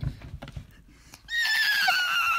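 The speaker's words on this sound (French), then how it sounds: "Je suis le cheval de la sorcière bossue." A magical horse in a cartoon fairy tale about a forest of witches neighs, a loud bright whinny arriving after some soft low thuds and holding to the end.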